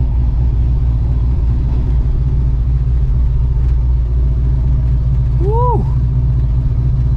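A car drives slowly up onto a trailer on wet ground, and its engine gives a steady, close, low rumble throughout. A voice whoops briefly near the end.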